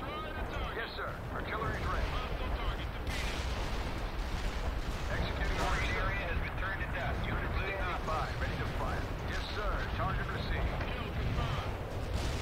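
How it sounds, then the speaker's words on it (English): Heavy artillery fire rolls on continuously in the World in Conflict real-time strategy game, a dense barrage of thuds and blasts at moderate level, mixed with battle noise and talk throughout. "Thankfully, we do have some heavy artillery to help us."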